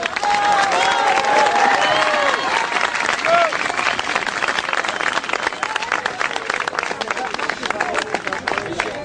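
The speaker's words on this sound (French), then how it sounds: "on peut applaudir Monsieur le Ministre." An audience breaks into loud, sustained applause and cheering welcoming a French minister at a Jewish festival gathering, a dense wash of clapping with crowd voices and a few shouts throughout.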